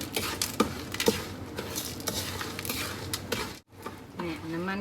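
A utensil stirs sugar in a little oil in a pan to caramelize it, with steady scraping and clinking against the pan over a soft sizzle, close and continuous, with a short quiet break near the end.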